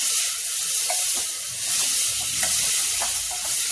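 Tomatoes frying in a pan for a radish curry, giving a steady loud hissing sizzle with a few soft spoon taps, close and continuous.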